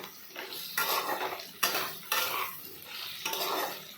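Vegetables stirred in a metal pan with a utensil, several scraping, clattering strokes in an uneven rhythm, close and fairly loud, with faint sizzling underneath.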